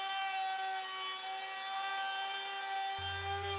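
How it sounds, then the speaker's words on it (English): A Bosch RA1181 router table mounted in a Delta 36-725 table saw cuts through a scrap piece of plywood, giving a loud, steady high-pitched whine with grinding cutting noise and a slight shift near the end. "Then I ran a scrap piece of plywood through."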